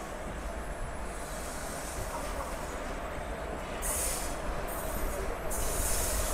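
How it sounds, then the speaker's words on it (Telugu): Krishna Express, running Adilabad to Tirupati, passing slowly through Vedayapalem station: a steady rumbling roll of wheels on track with hissing and occasional high squeals, close and continuous. "సో ఇది మన వచ్చేసి మన కృష్ణ ఎక్స్ప్రెస్"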